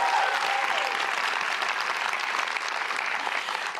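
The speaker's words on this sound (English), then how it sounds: "Let's give them a warm round of applause, please." A watch-party audience gives a warm round of applause at a women's business event, dense steady clapping that holds at an even, fairly loud level throughout with no voices on top.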